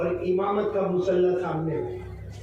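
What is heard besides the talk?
None of the usual background noises is heard.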